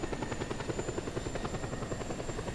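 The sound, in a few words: military helicopter flying in video game Just Cause 2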